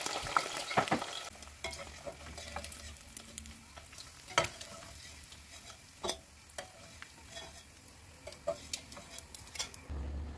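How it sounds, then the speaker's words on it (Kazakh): Quiet sizzling of food frying in sheep tail fat, with scattered stirring clicks and scrapes close by, no voices. "Қойдың құйрық майында біраз қуырып аламыз."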